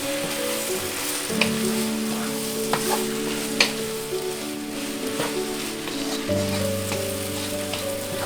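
Thick blended tomato sauce being stirred into brinjal moju in a pan, a steady wet sizzle with scraping spoon strokes and occasional sharper clinks over a continuous low background hum.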